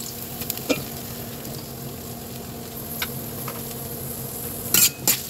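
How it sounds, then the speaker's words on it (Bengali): Onions dropped into hot oil, frying with a steady low sizzle and crackle throughout, with a few louder scraping or stirring clatters near the end. "তেলটা গরম হয়ে গেছে, এখন আমি পরিমাণ মতো পেঁয়াজ দিয়ে দিতেছি।"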